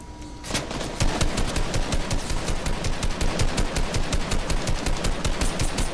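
Rapid automatic gunfire from the Fortnite video game, a loud, steady, fast stream of shots that starts abruptly and continues without a break, with no talking.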